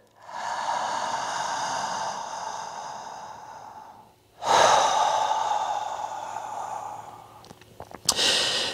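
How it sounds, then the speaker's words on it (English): Slow, deep breath drawn in through the nose during belly-to-chest breathwork, a long steady inhale of about four seconds followed by a fuller, louder breath, ending with a few short sniffs, close and alone. "you take a deep breath in"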